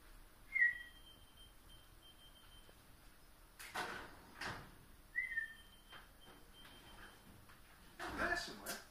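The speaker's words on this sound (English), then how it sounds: "When you whistle over here, it's coming from over there." Someone whistles nearby, giving two short, faint rising whistles several seconds apart. Soft thuds and knocks fill the quiet space around them.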